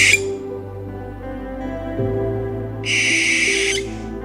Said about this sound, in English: The barn owl was also used in the film The Fourth Kind as a harbinger of evil.